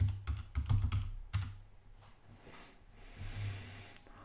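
Someone types a password on a computer keyboard during Ubuntu setup: a quick burst of sharp clicking keystrokes, near and distinct, followed by a few sparser taps and a final keypress with quiet room noise between.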